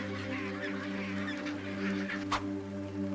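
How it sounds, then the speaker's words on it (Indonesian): Macaroni penguins call in honking, goose-like squawks over a steady background hum, with one sharper burst partway through. "Penguin macaroni atau macaroni penguins."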